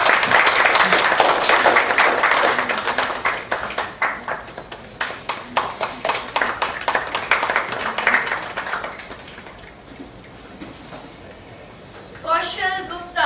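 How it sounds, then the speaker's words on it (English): Audience applause at the stock-exchange listing ceremony of Zeal Global Services Limited, bursts of clapping from a gathered crowd that fade into scattered claps, with a host's voice speaking over it. "Let's make huge round of applause"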